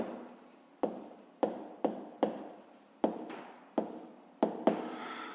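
Pen strokes scratch across paper during a fifth-grade maths exercise, arriving as about nine short, sharp bursts, each fading before the next, close and clear with no talking.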